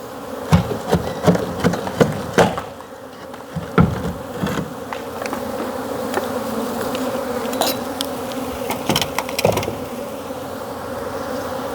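Bees swarm around a large beehive, a dense, close buzzing that carries on throughout and is punctuated by sharp knocks and clatters from handling the hive.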